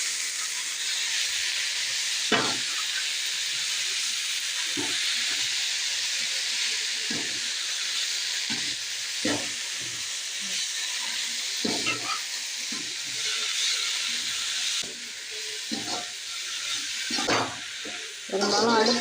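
Ponnanganni keerai greens sauté in a pan on a gas stove with a steady, loud frying hiss, broken by regular scraping stirs of a spatula about every second or two.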